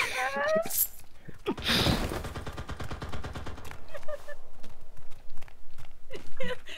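Automatic gunfire from the online shooter Cuisine Royale bursts out in rapid, loud volleys, with dense rattling strings and single sharp shots spread throughout, while voices talk over the game audio.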